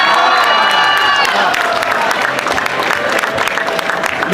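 A crowd at an Independence Day speech breaks into loud applause and cheering, dense clapping with whoops and high shouts over a sustained roar, close and energetic throughout, with a voice carrying over the start.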